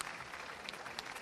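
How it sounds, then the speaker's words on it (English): Scattered applause from a small audience at the World Cheese Awards judging in Viseu, Portugal, a brief, fairly quiet patter of clapping with a few sharper claps standing out. "Round of applause."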